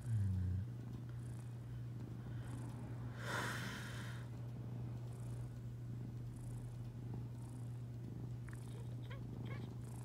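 A cat purrs steadily and softly up close, a low continuous rumble with a faint breath or sniff partway through.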